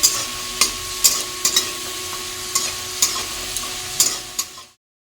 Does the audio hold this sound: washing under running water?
no